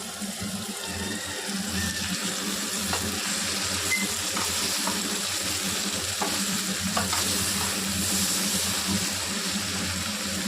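A spoon stirs a simmering pot of curry with dried fish (shutki) and taro stolons (lotis), giving steady bubbling, sizzling and faint scraping throughout, with occasional light clinks.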